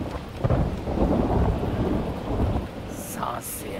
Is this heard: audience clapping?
no